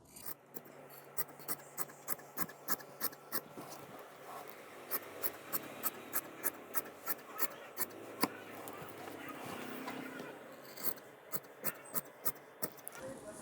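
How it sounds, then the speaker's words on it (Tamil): Fabric for pencil fit pants being cut at a tailoring table: steady, evenly paced crisp snips repeat throughout over a soft room hiss, with a short pause midway before the rhythm resumes. "அதனால் எக்ஸ்ட்ரா துணி வச்சு கட் பண்ணுறேன்."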